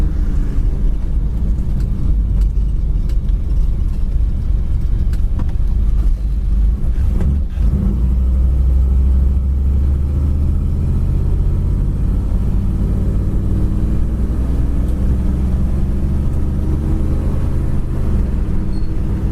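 A 1955 Ford Crown Victoria's engine runs steadily while the car drives, a constant low rumble with road noise, loud and close throughout with one brief bump partway through.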